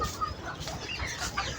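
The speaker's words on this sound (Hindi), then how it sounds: "अब मैं चलती हूँ मुर्गियों के पास अंदर" Chickens in a coop cluck softly and intermittently, with a few sharper calls, all fairly faint against a quiet background.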